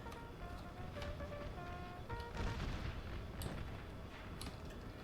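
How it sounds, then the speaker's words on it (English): Union artillery fire booms in the Napoleon Total War American Civil War mod at the Battle of Manassas, with a few soft, distant thuds under a quiet musical score. "Now this artillery, guys, I'll tell you, this artillery from the Union was a pain."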